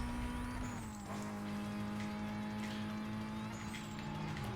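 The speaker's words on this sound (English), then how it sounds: "Oh, traffic." Car traffic in Need for Speed Most Wanted (2005), an engine drone holding a steady pitch with brief tire noise and passing cars, under game music, no speech.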